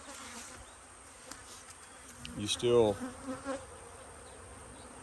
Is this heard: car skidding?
no